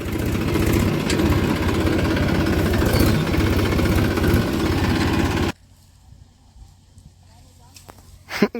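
A tractor engine idles with a loud, steady rhythmic chugging for about five seconds, then cuts off abruptly, leaving quiet with a few faint knocks and sounds nearby.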